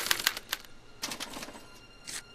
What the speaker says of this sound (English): As the responses are recorded, they're relayed to this special typewriter, which prints out a punch card